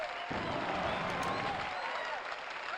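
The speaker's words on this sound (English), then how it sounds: "Listen to that crowd. They love me." A game crowd at a Tony Hawk's Pro Skater skateboarding competition cheers and applauds in a steady, dense roar, with faint voices mixed in.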